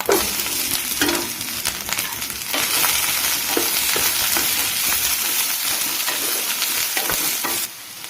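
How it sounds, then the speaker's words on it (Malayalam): Sliced onions and coconut pieces fry in hot oil for bitter gourd theeyal. A loud, continuous sizzle runs close by with stirring scrapes and crackles, then drops off near the end. "അതിലോട്ട് അരിഞ്ഞു വെച്ച് 2-3 ചെറിയ മീഡിയം സവാള അരിഞ്ഞു വെച്ച് അതിടാം"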